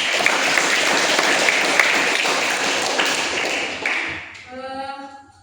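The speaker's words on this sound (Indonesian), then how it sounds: "mereka tepuk tangan" Students clapping their hands in a classroom lesson, a dense, lively round of applause that holds steady, then thins out near the end as a short tonal voice-like sound rises.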